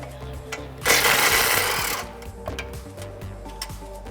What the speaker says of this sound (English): Now I'm using a air ratchet here, but you can get it out with a regular ratchet.